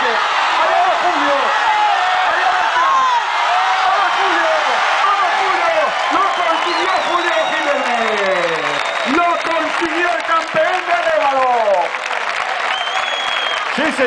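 A crowd at a strongman league event in Arévalo gives sustained, loud applause for champion Julio Jiménez, with cheering and a voice speaking over the clapping throughout.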